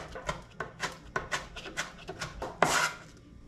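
A dull knife chops an onion on a board in a rented Airbnb kitchen in South America, about nine uneven close thuds with rasping drag, ending in one louder scraping stroke.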